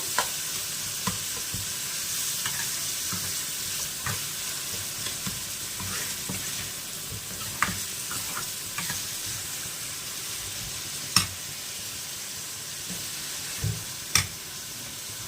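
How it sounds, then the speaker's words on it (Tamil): Three large chopped tomatoes sautéing in a hot pan, with a continuous sizzle broken by occasional sharp spatula taps and scrapes at irregular intervals. "அதை இதோட சேர்த்துக்கிட்டு இப்போ நாம் இதை நல்லா வதக்க போகிறோம்"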